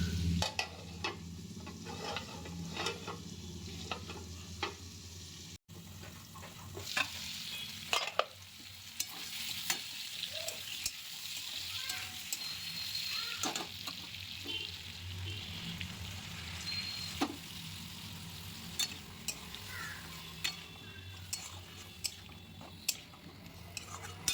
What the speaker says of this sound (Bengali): দিয়ে আমি আবার একটু নাড়াড়ি করে একটু চাপা দিয়ে নেবো যাতে একটু সিদ্ধ হয়ে যায়